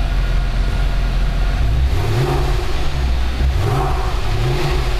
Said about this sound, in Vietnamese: tiếng bô nghe rất là phấn khích luôn mọi người ơi